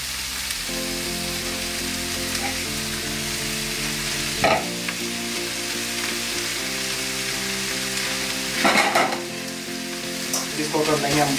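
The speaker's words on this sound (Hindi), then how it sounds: "अब इसके अंदर डालेंगे हम चाउमीन।" Chow mein noodles stir-fried in a pan, a continuous loud sizzle with scraping stirs and a few sharper clatters, set against steady background music.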